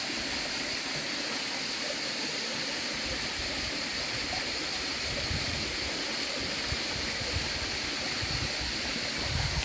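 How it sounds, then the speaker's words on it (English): A small waterfall in Greek countryside gives a steady, even rush of falling water, continuous and fairly close, with no voices. "Here you can see the small waterfall"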